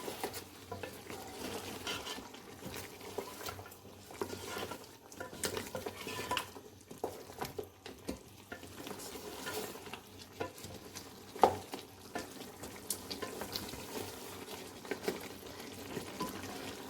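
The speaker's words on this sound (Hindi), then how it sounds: "जितना अच्छा हम इसको भूनेंगे उतना अच्छा ही इसका वो मसाला बनेगा।" Mutton paya masala frying in oil in a pot, with a low, steady sizzle and irregular stirring scrapes and clinks of the spoon throughout.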